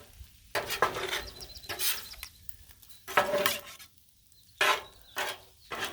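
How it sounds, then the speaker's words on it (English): Beef fried rice on a Blackstone griddle being stirred and mixed: repeated bursts of metal spatula scraping and clanking against the hot flat-top, with sizzling between strokes, close and fairly loud in irregular rhythm. "So we'll just start dumping and stirring and mixing."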